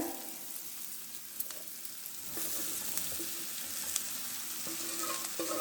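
Mashed raw plantain is tipped into a pan of fried aromatics for vazhakkai podimas, and the soft sizzle swells to a broader crackle with a few light stirring knocks.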